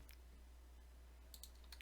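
A few quick, faint keyboard clicks as Control C is pressed on a computer, light taps clustered at the start and a pair near the end over a low steady hum.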